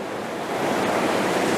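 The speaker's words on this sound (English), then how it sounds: "the water that's flowing down here" Water flows down through sunlit woods in Glencoe, Scotland, as a steady, close, broadband rush with no voices.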